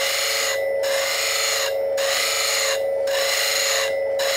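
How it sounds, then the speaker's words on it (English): A steel woodturning gouge, held upside down, is ground against a spinning grinding wheel with a guide, producing a steady harsh rasp broken by four brief, evenly spaced pauses as it is lifted away. "first thing we're going to do, we're going to grind off the top"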